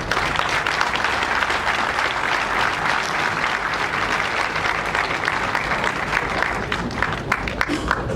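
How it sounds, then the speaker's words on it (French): An audience at a university diploma ceremony claps in a sustained, dense round of applause that stays loud and even throughout, with a few scattered voices in the crowd. "Maman, je souhaiterais que tu te lèves pour qu'on t'acclame."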